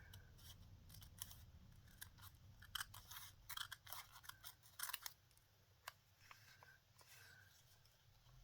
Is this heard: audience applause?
no